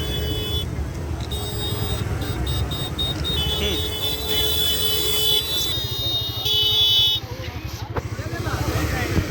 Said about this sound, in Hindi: और देखिए सारे जितने भी बाइकर्स हैं यहाँ से निकल रहे हैं